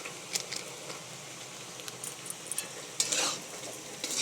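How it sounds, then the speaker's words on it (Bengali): Chowmein sprinkled with Maggi masala is stirred in a frying pan, with short scraping strokes and light sizzling in quick bursts, the loudest stroke coming near the end. "দিয়ে একটু নাড়িয়ে দিলাম।"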